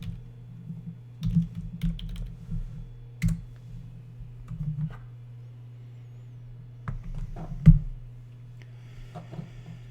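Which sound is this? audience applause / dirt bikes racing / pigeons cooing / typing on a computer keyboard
typing on a computer keyboard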